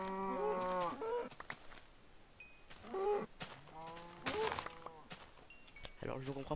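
Cows mooing in Minecraft with Tekkit Classic mods, several drawn-out moos in a row at moderate loudness, with brief chirpy blips between them.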